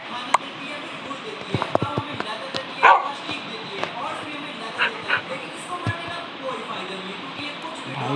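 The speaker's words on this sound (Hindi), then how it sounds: "कुत्ता कितनी वाली क्यूट सी आवाज निकाल के भौंक रहा है" In a Minecraft game, a dog gives several short, cute, high yips and whimpers with gaps between them. Clicks and other game noises sit in the background.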